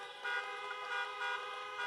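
Many car horns honking together at a drive-in political campaign rally in Iowa, a dense layered blare of overlapping toots that swells in repeated pulses and carries on without pause.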